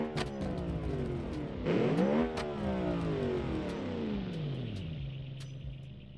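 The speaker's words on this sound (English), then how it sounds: "And yes, you are hearing it correctly. Our first V8 car of tonight." A 3.5-liter V8 in a car from the Automation driving game revs hard, pitch sweeping up sharply then sliding down in long falling runs before settling to a steady idle, loud and close with no talk.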